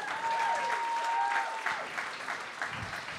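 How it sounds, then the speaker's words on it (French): Audience at a live comedy show applauds, a steady burst of clapping over a few seconds, with whoops and voices mixed in. "Okay, on applaudit Mathieu, le sex boy."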